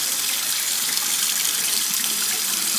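Water from a tap runs steadily into a sink as a piece of fabric dyed with English walnut leaves is rinsed, a close, continuous splashing rush with no pauses.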